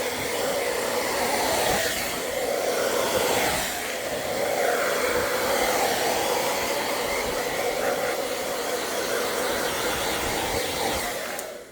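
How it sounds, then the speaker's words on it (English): A handheld blow dryer runs continuously for about twelve seconds with a steady, loud, close whooshing roar and slight wavering as it is moved around, with no talking, used on a model Battleship Texas build. "I kind of want to hit it with a blow dryer again."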